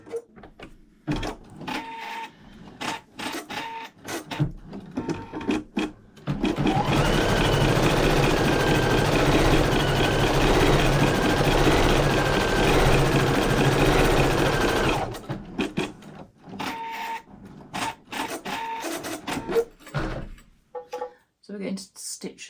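Embroidery machine stitching gold thread scrolls, a loud steady mechanical whir in the middle, with quieter clicks and handling noises before and after.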